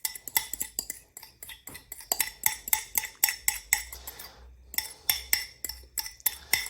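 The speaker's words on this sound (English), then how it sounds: "And keep whisking it with your fork." A fork whisking eggs in a bowl, with rapid, steady metallic clinks and taps striking the dish in a quick rhythm, close and clear, pausing once briefly before resuming.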